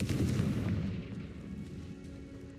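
A Confringo fire spell blasts in the Hogwarts Legacy video game, a loud booming burst at the start that rolls off into a dull, rumbling decay.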